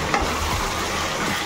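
Chicken and potatoes fry in a pan for a village-style Odia chicken aloo curry, giving a steady, close sizzle with a few stirring scrapes and no voices.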